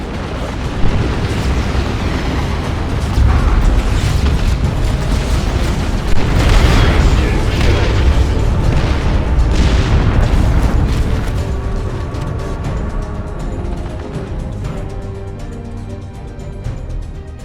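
Grenade blasts in the video game Dawn of War II: Retribution boom heavily amid dense, continuous battle noise, with repeated explosions and crackling bursts over a constant roar. A few voice lines are heard.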